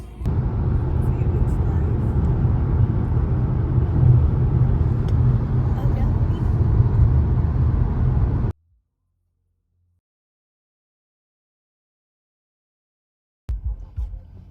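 A car driving on a road trip through rainy Germany toward a ferry to Denmark, a steady loud engine and road rumble for about eight seconds that cuts to silence, then resumes briefly at the end.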